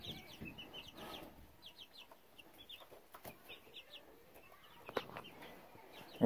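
Young laying hens, including Silver Laced birds, cluck and chatter softly in short bursts, several close by, with light scratching and rustling around them.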